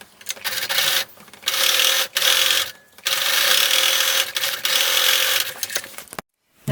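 Sewing machine running steadily as it stitches the bottom seam of a beach bag pocket with a half-inch allowance, loud and close in several continuous bursts separated by brief pauses, with no talking.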